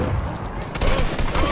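Gunfire in a Fortnite squads match, a burst of rapid shots that grows louder in the second half, dense and fairly close with no talk over it.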